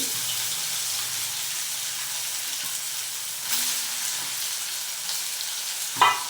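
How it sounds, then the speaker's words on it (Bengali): Paneer pieces frying lightly in oil over a lowered flame, giving a soft, steady sizzle with occasional stirring, ending in a sharp clatter near the end, close and with no talking. "গ্যাসের ফ্লেমটা নামিয়ে নিয়ে আস্তে আস্তে করে এই পনিরগুলো হালকা করে ভেজে নেব তেলে"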